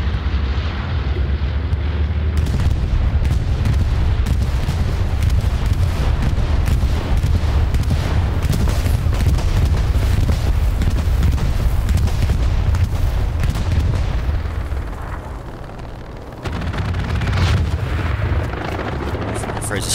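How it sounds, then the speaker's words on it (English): An air strike and bombing run in a World War II online shooter match, a loud rumbling barrage of repeated booms and blasts under aircraft drone that continues for about twenty seconds, dense and near, with a brief dip late on. "Here comes an airhead and bombing run combination from VLK."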